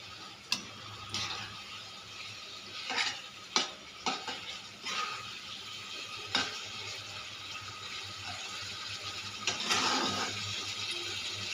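Dried fish frying in a pan with turmeric and salt over a raised gas flame, a soft continuous sizzle broken by sharp scraping and clinking strokes of a spatula stirring at irregular intervals.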